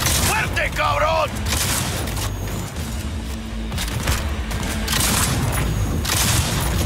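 Gunfire in the Cyberpunk 2077 video game crackles in dense bursts over a continuous loud game mix, with booms and mechanical clatter, and a voice speaks near the start.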